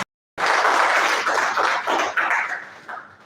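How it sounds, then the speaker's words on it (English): Audience applause at an electrical engineering conference, a dense burst of many hands clapping that starts abruptly after a brief silence, then swells and fades in uneven waves. "Please, a round of applause for electrical engineering"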